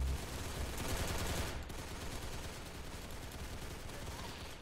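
Gunfire in the Roblox shooting game Arsenal, a dense burst of rapid shots in the first second and a half, then fainter continuing game noise, with no one talking.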